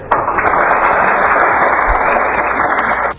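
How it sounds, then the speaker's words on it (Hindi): An audience at a debate breaks into loud applause, a dense, sustained clatter of many hands that starts abruptly and cuts off sharply about three seconds later. "तालियां बज गईं"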